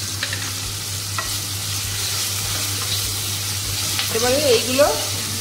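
Chicken dopeyaza with tomato and kasuri methi is stirred in a frying pan, making a steady close sizzle with scraping strokes of the spatula, and a short squeaky scrape near the end.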